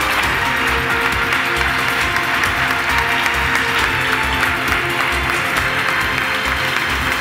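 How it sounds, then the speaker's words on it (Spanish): Sustained applause from a sizable audience at a local election candidates' debate on radio in Linares, dense and even throughout with no pauses. "Si pido un aplauso para los candidatos y candidatas."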